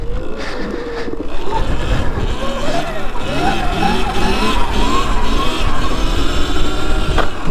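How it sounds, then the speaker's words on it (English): A Sur-Ron X electric dirt bike is ridden at full throttle through a wheelie on concrete, giving a close whining motor tone that climbs in pitch over rough tire and wind noise. "Towards the end of that wheelie I was just completely full throttle"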